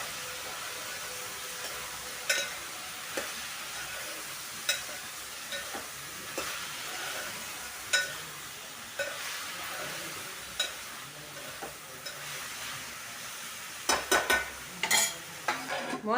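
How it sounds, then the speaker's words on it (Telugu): Spoon stirring ridge gourd curry in a pan after rock salt and turmeric are added, giving a steady soft sizzle with repeated scraping and clinking stir strokes, close and moderately loud, with no talk. "గల్లుప్పు, పసుపు వేసుకున్నాక ఒకసారి కలుపుకుందాము."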